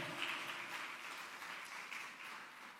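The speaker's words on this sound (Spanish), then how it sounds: "Pueden darle aplauso a Cristo." A church congregation claps and applauds together during a Spanish-language service, a sustained, moderately loud wash of hands that slowly tapers off.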